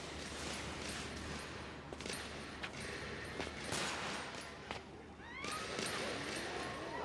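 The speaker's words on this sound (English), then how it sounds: "walk closer to gunshots" Gunshots in a video game trailer shown at Tokyo Game Show 2025, a string of sharp cracks spaced irregularly over a busy, dense mix of other game sounds.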